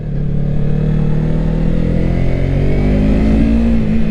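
A Yamaha MT-03 motorcycle ridden through turns, its engine humming loud and close with a steady, slightly rising drone as revs shift, heard alone with no voices.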